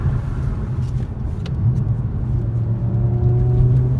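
A loud, deep exhaust rumble from a muffler-deleted BMW E60 M5 drones steadily nearby, with a low throbbing tone that swells slightly as the engine pulls.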